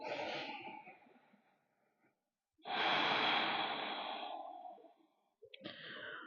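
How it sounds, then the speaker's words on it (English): Slow, deep breathing during a chair-based yoga practice for the lower back: a long audible exhale, a pause, another full breath in and out, then the start of a further breath, close and fairly loud. "Breathing in and out."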